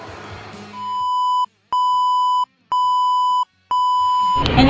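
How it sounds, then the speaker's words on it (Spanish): A computer with failed or damaged RAM emits a long, steady electronic beep at power-on, four sustained tones separated by brief gaps, with background noise at the start and end. "al momento de encender el computador emite un pitido muy largo"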